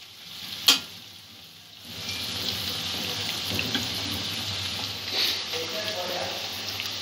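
Ginger and garlic frying with vegetables over a medium gas flame for crispy noodles, a soft continuous sizzle after a sharp clatter near the start, with quiet scraping sounds throughout.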